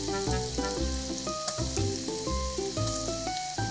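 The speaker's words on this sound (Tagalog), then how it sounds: "Pirituhin natin yung mga talong into medium heat hanggang sa mag-golden brown nito." Breaded eggplant fries in oil with a continuous hiss beneath louder background music with a clear melody and beat, no voices.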